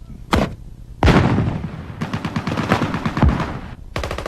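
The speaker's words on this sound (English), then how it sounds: "they will have fired close to 150 rounds of mortar and rocket ammo" Army Rangers fire mortar and rocket rounds in a live fire exercise, with loud, close blasts and rapid bursts of fire that overlap and echo across the range, with no talking.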